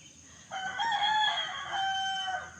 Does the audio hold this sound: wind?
no